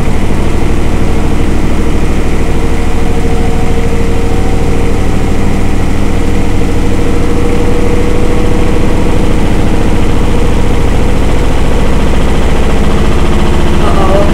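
An Indesit IWDE7168 washing machine spinning at 1000 RPM and shaking: a loud, continuous low droning roar with a rattling vibration, close and unbroken throughout.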